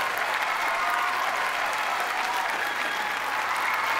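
Studio audience at a Marathi comedy show breaking into loud, sustained applause, an even wash of clapping that holds steady throughout.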